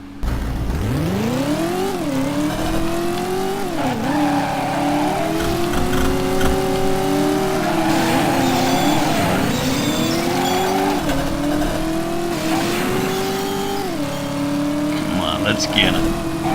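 In the PS1 video game Driver, a car engine revs and changes pitch repeatedly as it accelerates and shifts, with tires squealing through turns, loud and continuous game audio without talk.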